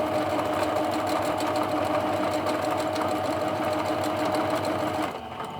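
A sewing machine runs close and loud, stitching fabric flowers backwards and forwards in one steady, continuous whirring burst that cuts off just before the end.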